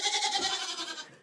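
A goat on a winter homestead gives a single clear, nasal bleat lasting about a second, fairly close and heard on its own before it fades out.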